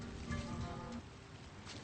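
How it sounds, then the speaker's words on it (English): Rain falls in a steady, soft hiss with a fine patter and no break. "It starts to rain"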